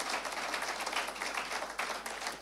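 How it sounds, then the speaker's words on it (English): Steady applause from a room full of people at a 40th anniversary fellowship gathering, moderately loud and continuous, with a few sharper bursts of clapping throughout. "give him a clap."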